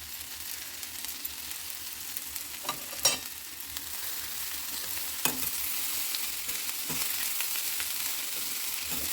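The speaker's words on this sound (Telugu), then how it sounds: "ఇలా అన్నం వేసాక అన్నంతో పాటుగా ఉప్పు, మిరియాల పొడి వేసుకుని కలుపుకోవాలి." Rice with vegetables, salt and pepper stir-fried in a pan for vegetable fried rice, a constant close sizzle with occasional scraping stirs of the spatula, no talking.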